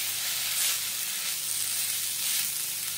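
Mustard leaf bhaji being stirred with coarsely crushed roasted peanuts in a pan, giving a loud, even, continuous sizzle with soft stirring swells and no voices.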